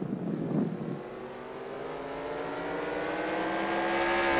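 Race cars run a quarter-mile oval at Cedarburg Raceway: a brief rumble gives way to a buzzing engine whine that climbs in pitch and grows louder as a car closes in, with no voices.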